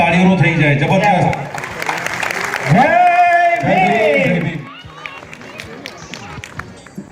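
Audience at a student honor ceremony breaks into loud, dense clapping for award and medal recipients, mixed with crowd noise and a voice calling out over it, then fading to scattered claps.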